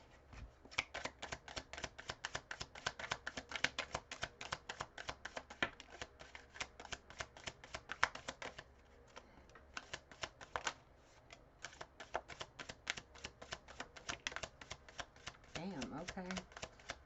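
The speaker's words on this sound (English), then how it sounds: "let's do one quick shuffle through the whole deck" Rapid, crisp riffling of tarot cards, the whole deck shuffled over and over in quick bursts close to the microphone, with brief pauses between passes.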